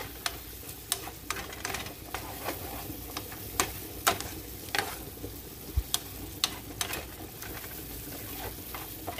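Salted ground beef for spaghetti is stirred in a pan: a soft, constant sizzle with scattered sharp clicks and taps of a utensil against the pan, close by and fairly quiet.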